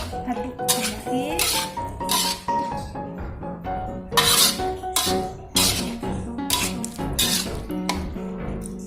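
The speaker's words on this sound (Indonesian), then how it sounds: "Kemudian kita aduk kembali." A utensil scrapes and clinks against a pan while chicken risole filling is stirred, giving repeated close metallic clatters in an irregular rhythm, with faint sizzling underneath.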